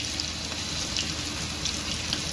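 Flour-coated chicken pieces fry in hot oil with a steady close sizzle and scattered light pops, no talking.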